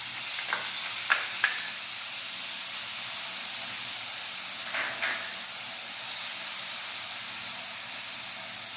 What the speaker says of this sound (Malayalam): എണ്ണ ചൂടായിട്ടുണ്ട്. നമുക്ക് ഇഞ്ചി, വെളുത്തുള്ളി, ചുവന്നുള്ളി ചതച്ചത് ഇടാം.